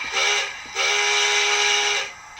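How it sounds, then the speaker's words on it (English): A bright, hissing steam whistle sounds twice, a short blast followed by a longer one, clear and close with a slightly electronic tone. "There's the whistle."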